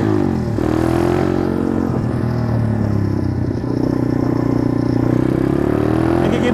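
A Symotos SY 110 mini trail motorcycle revs hard in second gear, its single engine droning loud and close with a rising, continuous buzz and a brief dip midway.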